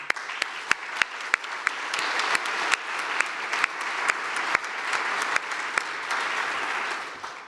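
Sustained applause from a seated audience at a Crossroads event, a steady wash of clapping with several sharp, close individual claps standing out, fading slightly at the end.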